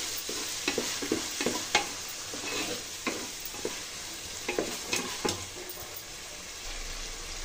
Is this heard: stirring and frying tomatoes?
yes